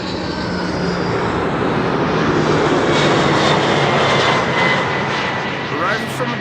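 A DHL Airbus A300 freighter arrives at Amsterdam Schiphol from Madrid with a steady, loud, broadband jet roar that holds throughout and swells slightly in the middle.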